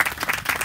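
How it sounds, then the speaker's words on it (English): A short burst of audience clapping at a recreation center groundbreaking ceremony, a few uneven pulses of hands in a small outdoor crowd, heard briefly and fairly close. "So let's give them a big round of applause."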